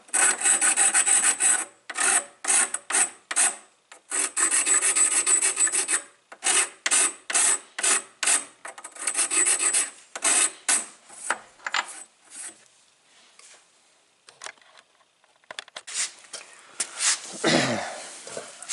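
Hand file rasping across a Woodmizer LT15 sawmill blade to sharpen it, close and loud repeated strokes in uneven bursts, some long and some short, thinning out toward the end with a few clicks and rustles.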